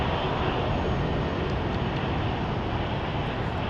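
A jet airliner roars at rotation during takeoff at Minneapolis–St. Paul airport, a loud, steady, broadband engine rumble filling the whole stretch without a break.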